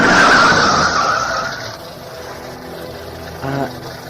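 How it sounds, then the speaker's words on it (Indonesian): A car braking to a stop as a radio drama sound effect: a loud tire skid that fades over about two seconds, followed by a quieter idling rumble and a brief mechanical bump near the end. "Dia menyetop mobil kita, Tuan Rani."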